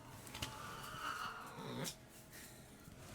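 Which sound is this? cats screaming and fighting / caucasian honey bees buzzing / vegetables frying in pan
cats screaming and fighting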